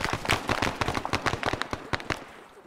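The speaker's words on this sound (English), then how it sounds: "we're taking grenades" In the ARMA 3 video game, a rapid chain of sharp blasts and cracks goes off in dense bursts, near and loud, then thins out toward the end.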